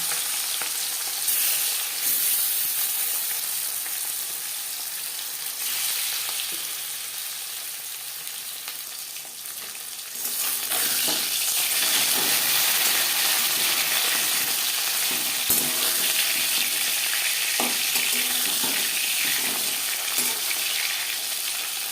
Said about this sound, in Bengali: 4-5 চামচ তেল আমি গরম করে নিয়েছি। এবার দিয়ে দেব লবণ হলুদ মেখে রাখা মাছ ও মাছের মাথা।